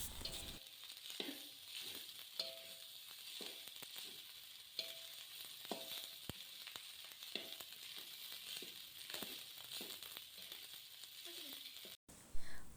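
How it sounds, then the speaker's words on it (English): Fried rice stir-frying in a pan gives a steady, quiet sizzle, broken by repeated soft scraping and tapping strokes from stirring, with a louder clatter at the very end. "Cook and stir for 2 minutes."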